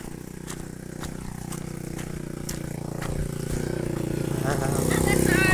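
A motorcycle approaches along a village road during field survey work in Purok Madasigon, its engine drone swelling steadily louder toward the end over a constant rumble, with faint voices in the background.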